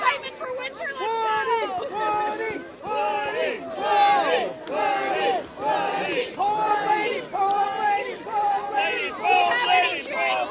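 A large crowd at a Groundhog Day celebration at Howell Nature Center in Michigan cheers and whoops for winter, many voices overlapping in loud, surging waves that rise and fall throughout.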